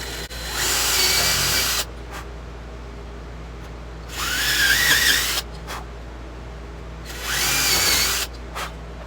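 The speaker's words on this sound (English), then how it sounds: "I got a bit in my drill that's the same size as the tuning keys here" A power drill bores holes into scrap wood for guitar tuning keys, three loud whining bursts of a couple of seconds each, separated by quieter pauses with a steady low hum underneath.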